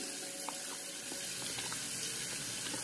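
Hot tap water runs steadily from a faucet into a sink, a continuous wash of splashing with small irregular drips and clinks over a constant noise bed, no speech.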